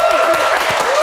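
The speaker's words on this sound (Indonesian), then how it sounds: "tepuk tangan dong luar biasa." Studio audience clapping during an Indonesian talk show in Bali, a steady close wash of applause lasting about a second with a voice or tone running underneath.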